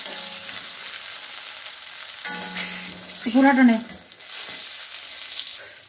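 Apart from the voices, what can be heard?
eggplant slices frying in a pan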